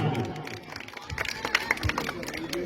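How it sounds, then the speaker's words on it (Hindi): An audience at a stage event in India claps, a loose scattered applause of many hands, moderately loud, with some crowd noise and a voice mixed in. "एक बार जोरदार ताली"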